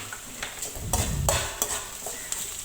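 Onions and green chillies with rock salt sauté in a pan for a cabbage stir-fry, giving a soft sizzle under a few scraping, clinking stirs of a spoon, close by and without talk.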